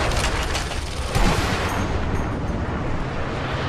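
A dense, continuous barrage of gunfire and booming blasts in the war-zone shooter Sniper Elite V2, loud and close, with one sharper impact near the middle.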